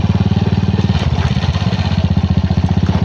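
A motorcycle engine runs steadily close by, its rapid pulsing putter holding an even, loud rhythm throughout with no voices.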